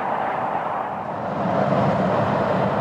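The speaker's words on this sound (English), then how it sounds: "Now you're going to have to excuse the traffic noise because I am above" Busy motorway traffic heard from above at night, a broad continuous rushing roar of passing vehicles that swells slightly toward the end.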